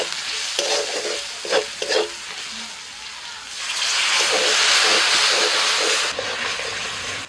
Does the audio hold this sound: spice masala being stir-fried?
yes